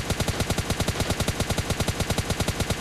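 Automatic gunfire in the mobile battle royale PUBG Lite, a loud, evenly spaced burst of roughly twenty sharp shots in quick rhythm, close by and with no talk over it.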